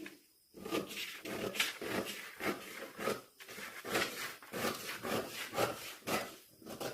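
Scissors cut skirt fabric along a marked line, giving a close, rhythmic series of crisp snipping and rasping strokes at a steady pace.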